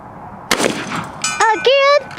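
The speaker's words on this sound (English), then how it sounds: "I'm going to shoot the dead center of that target." Several shotgun shots fired at a target outdoors, heard as a sharp loud blast followed by further bangs in quick succession, with voices talking between and over them.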